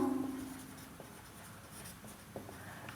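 A pen or pencil writes out a math solution by hand on paper, quiet scratchy strokes with a couple of small taps, close and faint over low room hum, no talk.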